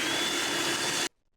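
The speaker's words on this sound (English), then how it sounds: "blend it on high till it is smooth and creamy" A blender on high speed whirs steadily through a batch of Greek yogurt French onion dip, a loud continuous motor roar that cuts off abruptly to near silence.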